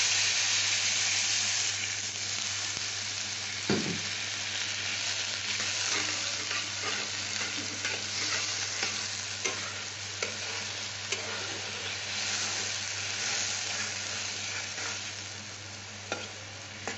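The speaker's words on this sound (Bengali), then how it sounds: "এটা একটু কষে নেব।" Masala for doi katla (Bengali curd-style catla fish) sizzles in a pan with a little added water, a steady frying hiss with occasional clinks and scrapes of stirring, close and continuous, without speech.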